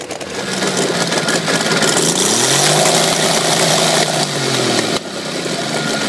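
A Megola motorcycle's 0.64-litre, 14 hp five-cylinder radial engine with side valves, mounted inside the front wheel, runs loudly and revs up and down in smooth, rising and falling sweeps, with a brief dip near the end.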